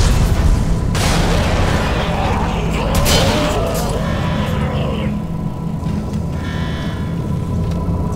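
A new weapon fires in Dead Space 2, heavy booming blasts and mechanical rumbles in quick bursts over a low drone, with someone talking faintly beneath the game sounds.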